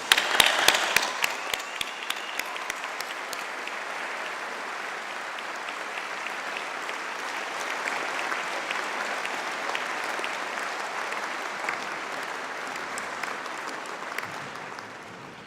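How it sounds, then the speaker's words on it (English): Audience applause at a university graduation ceremony, opening with a few distinct claps before swelling into sustained, fairly distant clapping from a large hall crowd that fades out at the end. "Let's have lots of applause for everyone as they come across the stage"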